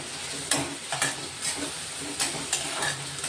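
Garlic-ginger paste sizzles in a hot pan, a steady frying hiss with a few stirring scrapes at regular intervals, close and moderately loud, with no voices.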